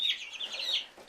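Five-week-old chickens cluck and chirp in a thin, high run of small calls, fairly faint and close, with no one speaking.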